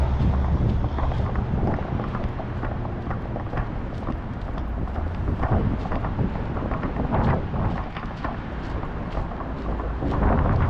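Wind and breeze near the Walnut Street Bridge in Philadelphia, buffeting the microphone in a steady, loud rumbling wash that never lets up, with faint rustling on top and no voices.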